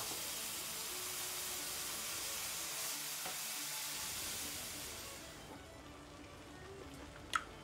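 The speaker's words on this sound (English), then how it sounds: "stir that in, let it brown with the butter." Flour sizzling and browning in melted butter in a pan, a steady close frying hiss with stirring scrapes that fades quieter toward the end, capped by a single sharp clink.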